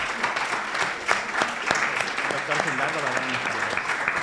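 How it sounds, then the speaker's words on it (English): Audience applause for a production crew at an event, a loud sustained burst of many hands clapping, with a voice speaking over it toward the end. "Please give them a round of applause"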